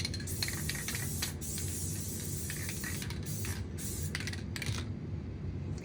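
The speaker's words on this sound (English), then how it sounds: "you want to spray like just a little more than you think you need" A can of spray glue hisses steadily and close by for several seconds with no talking, applied while assembling small painted signs.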